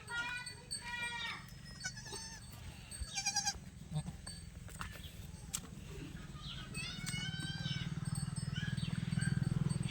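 Goats on a farm, including a nanny with newborn kids, bleat repeatedly at close to moderate distance over a steady low hum, with voices murmuring in the background.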